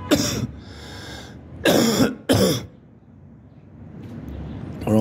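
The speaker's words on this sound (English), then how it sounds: "yeah, my cough is back." Three harsh coughs, two of them close together in the middle, with a softer rasp at the start and a fainter noise at the very end.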